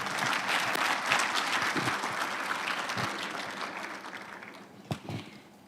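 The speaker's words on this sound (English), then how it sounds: "Once again, a huge round of applause for our speakers" A hotel audience at a power plant commissioning ceremony applauds the speakers, the clapping dense at first and then thinning and tapering off, with a few scattered late claps near the end.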